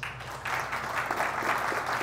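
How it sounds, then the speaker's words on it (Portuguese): Audience applause fills the space, a steady wash of many hands clapping that swells after a brief quieter start and continues at moderate distance, with no one speaking over it. "Uma salva de palmas."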